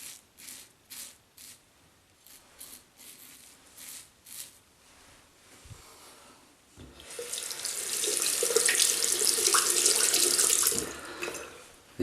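A Merkur Futur safety razor, set to 6, is rinsed under a running tap: a loud, steady hiss of water fills the second half after several short clicks and knocks, ending abruptly.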